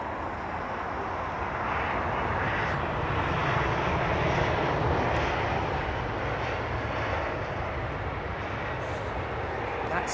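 An airplane lands in a crosswind on runway 27R, its engine noise a steady, broad roar that swells slightly through the middle and holds loud throughout.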